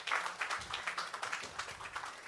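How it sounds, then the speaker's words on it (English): Applause from a conference audience at a women's wealth and real estate event, a fairly faint, steady patter of clapping hands lasting a couple of seconds. "Another round of applause for Tosin Ajose."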